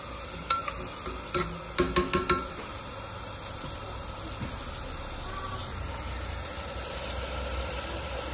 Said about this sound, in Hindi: तो पूरी प्याज को अच्छे से हम गोल्डन ब्राउन कर लेंगे।